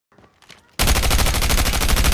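In the Call of Duty Mobile video game, a short stretch of faint background sound gives way to sudden, dense, continuous rapid gunfire that stays loud and close to the end.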